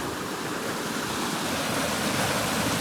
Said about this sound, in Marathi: या मोऱ्यांमध्ये चालली नदी खाली.